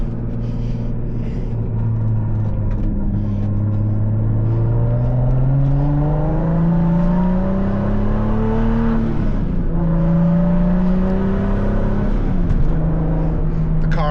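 Boosted MK4 Toyota Supra running on ethanol (E69) at about 15-16 psi, cruising with a steady close engine drone that rises and dips smoothly with throttle changes over continuous road noise; no talking.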